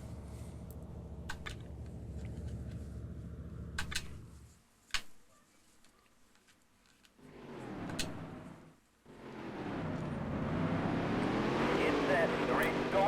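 Race cars in the Dirt to Daytona racing game roar at the start of a race. A loud droning engine note cuts out, then returns as rising, sweeping revs, with a voice talking over it.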